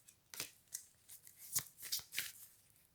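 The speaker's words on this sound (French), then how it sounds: "On me dit qu'on prend une dernière carte." Tarot cards being shuffled and drawn, a close, quiet series of crisp papery riffles and flicks arriving in short irregular bursts, with no voices.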